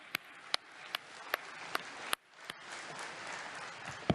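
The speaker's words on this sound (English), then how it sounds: "a good round of applause to our panel." Audience clapping for a panel at the Assembly of First Nations annual general meeting, sparse and quiet, with distinct separate claps popping out over a low patter of hands.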